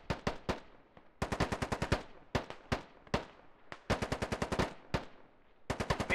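Rapid bursts of automatic gunfire in the military shooter game Squad, crackling in quick strings of shots separated by short pauses, loud and close, with some single cracks between volleys.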